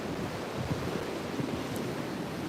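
Surf from an incoming tide washing onto a tea-tree-lined coast, a steady broad wash with soft swells, heavy with wind buffeting the microphone and no voices.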